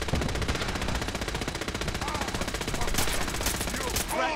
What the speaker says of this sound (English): Wait, is Dance is using the Gatling laser?